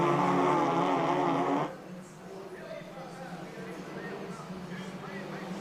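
Race cars roar down the front straightaway at the Grand Prix de Trois-Rivières street circuit, loud and close at first, then cutting off abruptly to a quieter, distant engine drone with a commentator talking over it.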